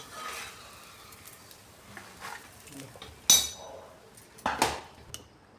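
A knife cutting a radish paratha on a plate gives a few faint scrapes followed by two sharper clinks of metal against the plate, close by and quiet, with no voice over it.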